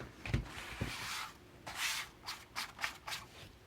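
Paper card is folded and then burnished, giving soft close rustles and a few quick rubbing strokes, quiet and intermittent.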